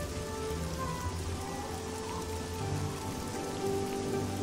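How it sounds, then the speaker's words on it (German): Steady rain falls in The Elder Scrolls IV: Oblivion, a constant even patter on surfaces with no pauses, moderately loud and alone. "Ah, jetzt haben wir Regen."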